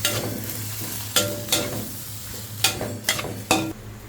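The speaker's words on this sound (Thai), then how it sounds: "แล้วก็ผัดผัดให้เข้ากัน" Dry suki noodles being stir-fried in a hot pan, with a constant sizzle and several sharp scrapes and clanks of the utensil against the pan.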